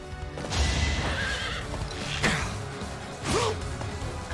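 Cavalry horses in the video game Fire Emblem: Three Houses neigh in three loud, close whinnies over clip-clopping hooves and game combat noise, with a swoosh between them.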